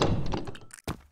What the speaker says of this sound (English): A locked door.